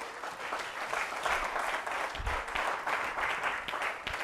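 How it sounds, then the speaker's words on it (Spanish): Church congregation clapping during a Spanish-language service, a full, sustained round of applause from many people at moderate loudness, with a few low thumps underneath and no speech. "Dele un aplauso a Jesús."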